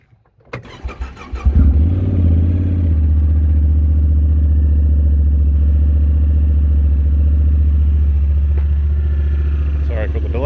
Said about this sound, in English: I'll even fire it up for you and see if you can hear the exhaust.